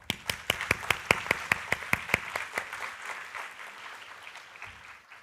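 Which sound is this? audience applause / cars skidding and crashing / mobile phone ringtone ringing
audience applause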